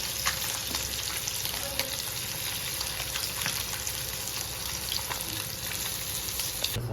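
Jilebi fish frying on a hot stone dosa griddle, with a dense, continuous crackling sizzle that stays close and loud for the whole stretch, dotted with small pops.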